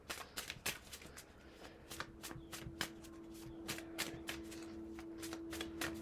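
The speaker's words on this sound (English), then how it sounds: "I'll shuffle it one more time," Tarot cards being shuffled in quick, crisp riffling bursts, close up, repeating steadily with a faint tonal hum underneath.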